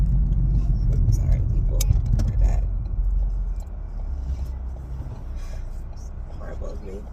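Car engine and road rumble as the vehicle moves through traffic, a steady low drone that eases slightly partway through, with faint rattles and people talking over it.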